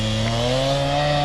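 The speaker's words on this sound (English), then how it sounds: "getting right with a concrete saw on a Monday morning with some Blends oil in the tank" A concrete saw runs at a steady, loud whine with its engine droning continuously, fuelled with Blends oil during dam excavation and repair work on a lake on a Monday morning.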